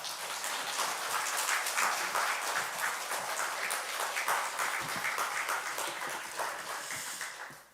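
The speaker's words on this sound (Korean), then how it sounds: "큰 박수로 한번 환영해 주시길 바랍니다" Sustained applause from a church congregation welcoming a missionary at a Sunday worship service, a steady dense patter of many hands clapping at a moderate distance, with no talk over it.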